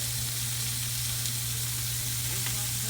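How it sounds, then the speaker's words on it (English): Onion and garlic sautéing in a pan over a low-to-medium flame, a dense, continuous sizzle held at steady loudness with a faint stirring scrape near the end. "Okay, so now we're going to add the onion."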